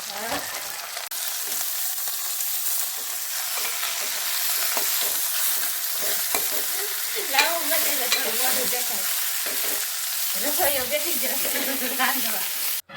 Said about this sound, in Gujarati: તો મિત્રો ભાજી છે ફ્રાય ચાલુ થઈ ગઈ છે.